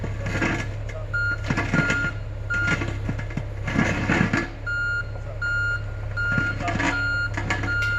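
A heavy truck rumbles steadily while a reversing alarm beeps at a regular rhythm, with clanks and machinery noise throughout.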